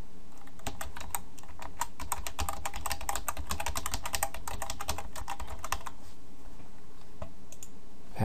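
Quick bursts of computer keyboard typing as an email address is entered, close and crisp, with a short pause before a few final keystrokes.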